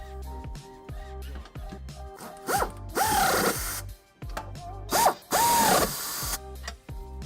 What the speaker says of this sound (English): with our nuts in place and hand tight, we can snug them up using an 11/16 socket